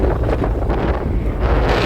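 Loud, continuous wind buffeting a microphone while riding pillion on a motorbike in open air toward the airport in Guwahati, a dense roaring rush that never lets up.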